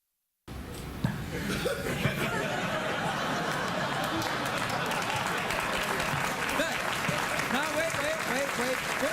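A late-night talk show studio audience bursts into sustained, loud applause that stays dense throughout, with laughter and chatter mixed in and a voice speaking briefly over it.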